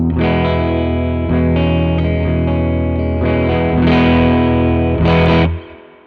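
Distorted electric guitar chords through a Benson Mixwave Chimera flanger plugin with reverb ring out with a sweeping, swirling modulation, changing every second or so, then fade at the end.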